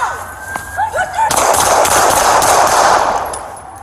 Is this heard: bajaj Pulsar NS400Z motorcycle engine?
no